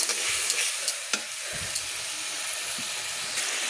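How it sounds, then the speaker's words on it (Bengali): Spice paste for a Bengali prawn curry sizzles and hisses in a pan with water, close up, as a spoon stirs it with occasional scraping taps against the pan. "দিয়ে আমি দেখুন ভালো করে মশলাগুলো আর একটু কষিয়ে নিচ্ছি।"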